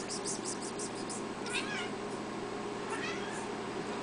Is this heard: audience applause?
no